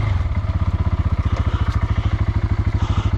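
A quad bike sunk in mud runs at low throttle as it is hauled out, its single-cylinder engine chugging in a fast, even pulse, close and fairly loud, with faint clatter on top.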